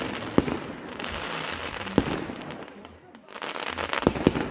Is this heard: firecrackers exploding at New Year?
yes